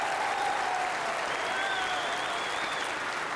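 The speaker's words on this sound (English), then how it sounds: "So give her a big round of applause." Dense, steady applause from an audience at a Diamond Jubilee musical ride event in Saskatchewan, holding constant throughout with a few whistles and cheers rising above the clapping.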